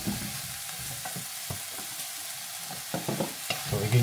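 Squash sautés in a pan with little or no oil for kare-kare, giving a soft steady sizzle broken by several sharp scraping knocks of a utensil stirring against the pan, close up and without talk.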